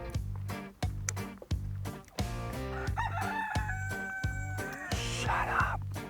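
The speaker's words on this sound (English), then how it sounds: "The rooster is right." A rooster crows loudly over a rhythmic music beat in a grilling kitchen, one drawn-out call near the middle.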